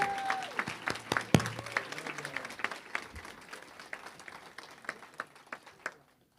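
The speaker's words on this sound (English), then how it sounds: "can we give Victoria a very warm round of applause?" Audience applause at a celebration event, a crowd clapping steadily, then thinning into scattered individual claps that fade out before the end, with faint voices underneath.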